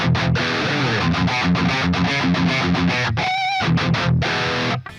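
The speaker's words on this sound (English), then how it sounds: "I am actually surprised how much distortion and how tight this amp is." A distorted electric guitar through a Plexi amp plugin, dialed for a classic metal tone, plays tight chugging rhythm chords in loud bursts, with brief stops and a sustained ringing note before the final chords.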